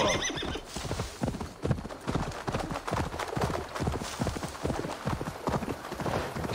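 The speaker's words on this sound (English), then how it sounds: "Horse." A horse in the Assassin's Creed Valhalla video game gallops with rapid, rhythmic clip-clop hoofbeats and lets out a whinny, the hooves loud and close and steady for the whole stretch.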